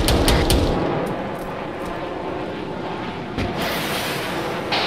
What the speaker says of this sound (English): Missile launch outside the base.